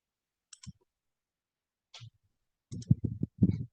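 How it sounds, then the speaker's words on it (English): Computer keyboard keys are typed during an online class. A few isolated clicks come first, then a quick close cluster of keystrokes, all quiet and with no talking. "Are you still typing"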